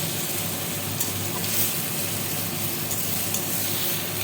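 Chopped, boiled and peeled tomatoes go into a pan of frying curry leaves for tomato rice, giving a steady, loud, close sizzle with faint crackles and stirring throughout.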